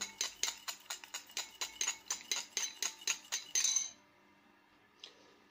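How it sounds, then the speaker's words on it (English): An egg with a pinch of salt beaten in a bowl: a close, rapid series of about fifteen rhythmic clinks of utensil against the bowl, stopping abruptly, then quiet. "1 egg, pinch of salt, stir quite well."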